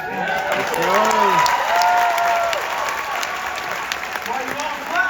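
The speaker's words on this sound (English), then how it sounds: "Why you all clap very loudly?" An interview audience claps loudly in a sustained burst of applause, with a voice speaking over it.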